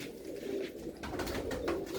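Red pigeons in a loft give faint, low coos, brief and repeated, over a quiet background hum.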